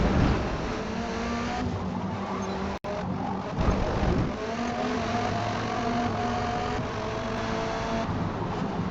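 A race car engine in Forza Motorsport, racing and revving continuously with shifting pitch, one brief cut in the sound partway through, loud and close with no speech over it.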